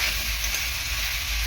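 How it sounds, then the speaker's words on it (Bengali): Potatoes seasoned with chili powder are stir-fried in a pan over a high gas flame, giving a loud, continuous sizzle with stirring scrapes throughout and no voices. "লঙ্কার গুঁড়ো দিয়ে ভালো করে আলুটাকে এরকম কষিয়ে নেব।"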